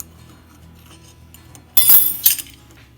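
A metal fork clinks against a mug while cake ingredients are measured, a sudden bright scrape and jingle near the end followed by a second sharp tap after a quiet stretch.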